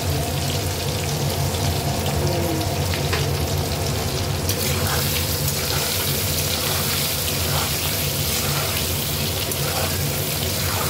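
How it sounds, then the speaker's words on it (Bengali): Potatoes fry in hot oil for a potato and egg curry, a loud, continuous, dense sizzle that roars steadily throughout with small bursts of spitting layered on top. "আমি তুলে নিয়ে আলুটা ভেজে নিচ্ছি। এবার আলুটা ভেজে নেব,"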